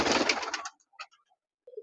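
Domestic pigeons kept in a loft of about 150 birds, including fancy flying pigeons, give a short burst of cooing followed by a few faint, scattered soft coos.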